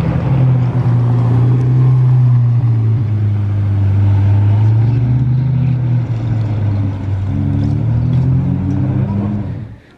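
A Pista Spider sports car on a Monaco street gives a loud, steady low engine drone that shifts slightly in pitch as it passes, then cuts off abruptly at the end.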